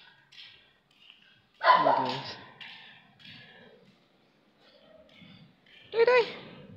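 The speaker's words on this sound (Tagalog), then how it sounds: "Aso dito." A dog barks near a seaside mangrove area, two sharp bursts spaced several seconds apart, with softer yips and faint noises between them.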